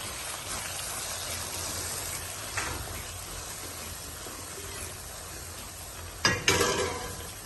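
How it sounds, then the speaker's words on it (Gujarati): Spices and garam masala are stirred in a frying pan for palak paneer, giving a soft, low sizzle. A few scraping spatula strokes stand out, strongest near the end, and no voices are heard. "અને બધાને મિક્સ કરી નાખીશું"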